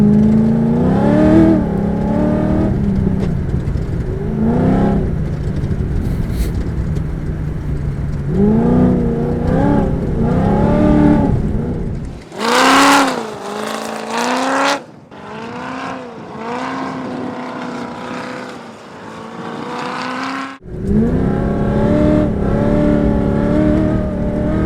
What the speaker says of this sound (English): I feel like I'm driving something out of Terminator with a big horsepower V8 hanging off the back of it.